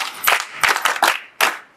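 Students on a city school excursion clap their hands in a few separate, sharp, irregularly spaced claps, close and distinct, with brief silences between them.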